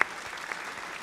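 Brief burst of applause as a sound effect on a livestream, a short loud clap onset that settles into a steady, even crowd-clapping wash.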